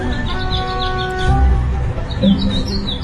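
Birds chirp in repeated short tweets over a steady, noisy background, with a brief low thump partway through and no talking.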